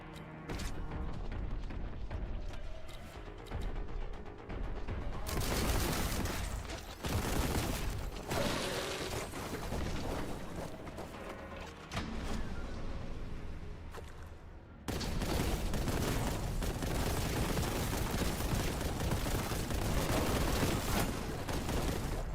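Rapid gunfire from a weapon in Warhammer 40,000: Boltgun sounds in loud, dense bursts with booming impacts. The shooting breaks off briefly a few times, then starts again, and no one speaks.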